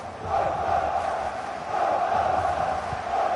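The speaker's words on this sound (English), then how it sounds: "Being egged on by the crowd" Football crowd noise during a second-half match, a steady broad roar of many voices with swelling cheers, loud and continuous throughout.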